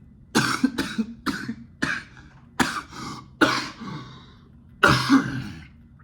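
A series of harsh, hacking coughs, about eight bursts in irregular succession, close and fairly loud with brief quiet gaps between them.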